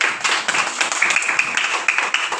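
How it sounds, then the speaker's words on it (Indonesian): A class of children claps together in a classroom, with quick uneven claps merging into steady applause that lasts the whole stretch. "tepuk tangan untuk Ingrid dulu."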